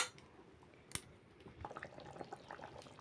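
Thin chicken curry broth in a pot comes to a boil, with a soft, continuous bubbling and a few light drips and splashes, quiet and close, with no talking.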